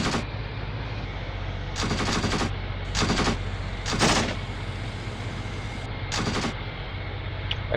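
Bursts of machine-gun and rifle fire in the Achtung Panzer WWII game crack out in several separate volleys against a steady low rumble, with short quieter gaps between bursts.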